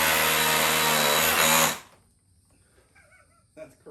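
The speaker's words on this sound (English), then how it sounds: "All right, so hammer plus drill." A Milwaukee M18 FUEL SDS Plus rotary hammer drills in hammer mode, a loud, dense, steady grinding roar for under two seconds before cutting off into near quiet with faint handling noise.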